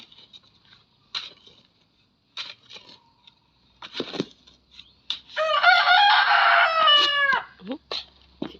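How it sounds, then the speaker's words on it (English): A chicken clucks in short scattered bursts, then a rooster lets out a loud, drawn-out crow nearby, followed by a few more clucks. "Chicken."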